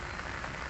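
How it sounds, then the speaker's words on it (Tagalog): Rain falling steadily, a dense, even hiss of drops on surfaces, close and continuous without talk. "Kasi umuulan."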